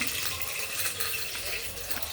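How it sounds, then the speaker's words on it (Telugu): Water is poured over freshly pounded ginger in a bowl, a faint steady splashing trickle lasting a couple of seconds with no voices. "అల్లం దంచేసి వాటర్ వేసాను."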